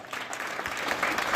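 An audience at a school award ceremony in Taranagar claps in a dense, steady burst of applause, moderately loud and continuous, with no voices over it.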